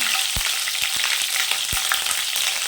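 Green chillies sizzle in hot oil with mustard seeds and chana and urad dal for a sweet pumpkin dish, a steady bright crackle with a few soft low knocks of a spoon against the pan.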